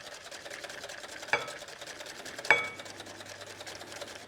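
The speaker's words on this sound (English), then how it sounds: "Now we're going to pour this into our egg mixture, a little bit at a time, whisking the whole time." Rapid, steady clicking and tapping of a whisk against a bowl of egg mixture for caramel custard, close by, with a couple of sharper clinks partway through.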